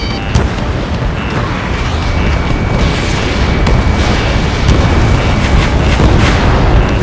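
Missile hits and explosions in the Ace Combat 7 jet combat game form a dense, loud, continuous roar of booms and blasts with rumbling low end that holds steady throughout, with no pauses.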